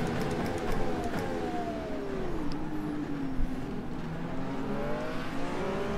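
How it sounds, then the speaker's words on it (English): A turbocharged Dallara DW12 race car in the rFactor 2 racing game holds a high, whining engine note that sweeps up and down through gear changes, steady and moderately loud with no talk over it. "this is a turbocharged car, so you want to keep the revs up"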